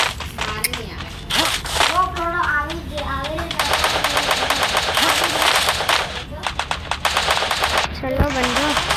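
Rapid bursts of automatic gunfire from the video game Free Fire crackle repeatedly, mixed under excited talking from a player throughout.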